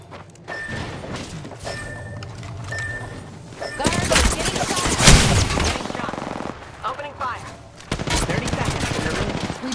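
Automatic gunfire in the battle royale game Apex Legends, sustained loud bursts of rapid shots that swell mid-clip and return near the end, with game voice lines and talk around them.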